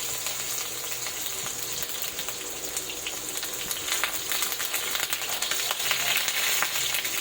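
An eggplant, one long and large piece, sizzles and crackles steadily in a hot pan, a continuous, fairly close frying hiss with scattered pops and no voices.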